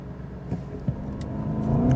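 A 2024 Bentley Flying Spur Edition 8 with a twin-turbo V8 launching hard from a standstill in sport mode: a short burst of engine roar that swells steadily louder over two seconds, heard from inside the car.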